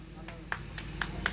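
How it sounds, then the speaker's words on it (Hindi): Scattered audience applause at a temple honour ceremony for kanwar pilgrims, a few distinct claps at an uneven pace, fairly quiet, under a low murmur of voices. "जरा तालियां हो जाएं"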